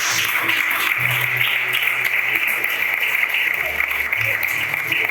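A church congregation applauds in a sustained, dense wash of clapping at moderate volume, running steadily throughout.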